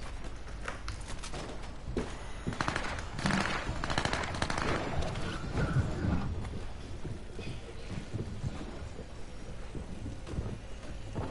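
Rapid video game gunfire, steady automatic bursts running throughout at moderate loudness, with a voice talking briefly over the shooting.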